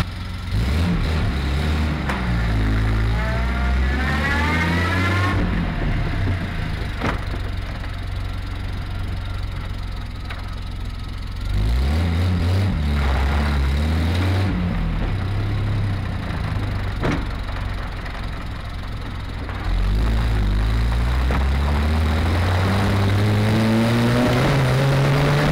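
A 1973 Triumph TR6 on a road test, its engine rising and falling through repeated acceleration runs with audible gear changes, loud and close throughout with no talking.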